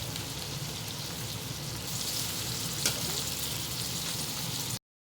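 Boiled chicken pieces frying steadily in a hot pan, a dense continuous sizzle with a brief louder crackle partway through, close and without voices.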